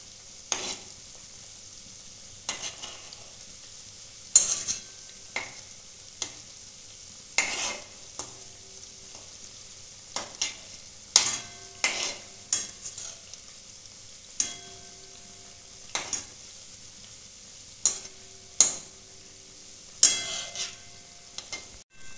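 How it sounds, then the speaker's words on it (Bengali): Semolina biscuits fry in oil over medium heat, giving a low steady sizzle broken by repeated sharp clatters and scrapes from stirring and turning at irregular intervals, close by with no talk. "গ্যাসের দমটা কমিয়ে মাঝারি আঁচে এটা ভাজতে হবে"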